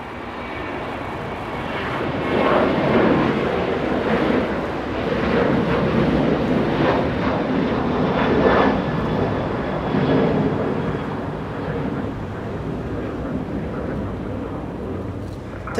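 A British Airways airliner taxis at Los Angeles International Airport, its jet engines a steady, broad roar with slow swells in loudness, heard from a moderate distance with no talk.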